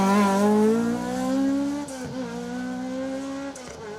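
A Ford Escort rally car on an asphalt stage in Rally Ceredigion blasts past close by, engine screaming up through the revs, a quick gear shift, then carrying on more steadily as it pulls away.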